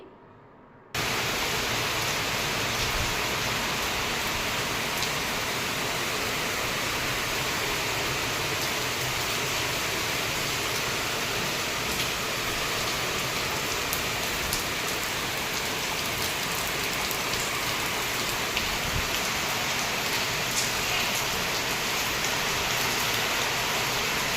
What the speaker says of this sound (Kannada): ಮಳೆ ನೋಡಿರಿ ಎಷ್ಟು ಜೋರಾಗಿ ಮಳೆ ಬರಕತ್ತತಿ